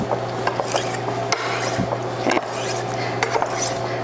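A knife blade is drawn across a medium grit whetstone in repeated scraping strokes, close and fairly loud over a constant low hum, with no talking.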